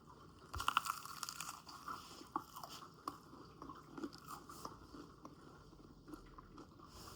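Quiet crunchy chewing of a crispy flourless carnivore biscuit up close, irregular bites and crackles with a louder burst near the start, then softer munching.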